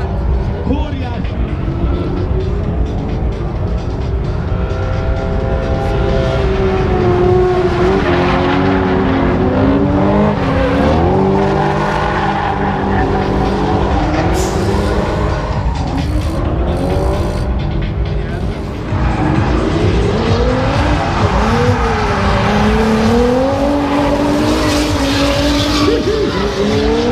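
Drift cars at a speed festival on the Tököl airfield, with engines revving hard and tires squealing in long, wavering screeches that go on almost nonstop, loud and near, while people talk excitedly over them.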